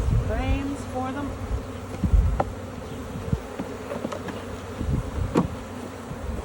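A honeybee swarm hums at a hive entrance as it is caught and settles onto frames with wax. The dense buzzing holds steady and close, with a faint voice briefly heard early on.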